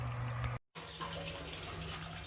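Hot sparge water at 180 degrees showering steadily onto a set grain bed during home beer brewing, a continuous soft splashing hiss with a brief dropout near the start.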